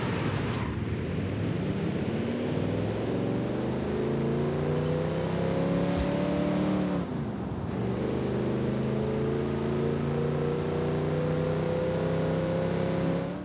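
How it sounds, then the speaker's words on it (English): The 300 horsepower Lincoln Continental in Forza Horizon 5, its engine droning loud and steady, rising in pitch through two long acceleration pulls with a brief dip between them, with no talking. "take a listen to the 300 horsepower Lincoln Continental"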